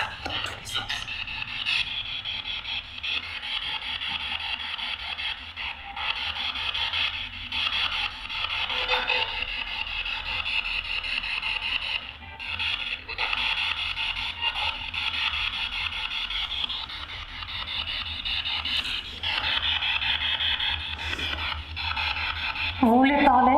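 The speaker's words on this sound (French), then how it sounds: "Ça gratte dans tous les sens." Repeated rubbing and scraping noises, like scratching against wood, recur close by in near-continuous bursts during a nighttime paranormal investigation at a summer camp, with people talking at times.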